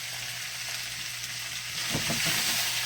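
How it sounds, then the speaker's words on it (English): Celery and onion sauteing in rendered ground-beef fat, a steady close sizzle that swells louder near the end as the vegetables are stirred. "What I'm about to do now is I'm about to saute these veggies now."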